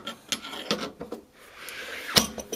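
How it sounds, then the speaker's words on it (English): An electrical immersion heater being screwed into a boiler gives a series of sharp ratcheting clicks at irregular intervals, close and fairly loud, with a brief scraping rub midway. "hear that clickiness. As it's spinning around naturally."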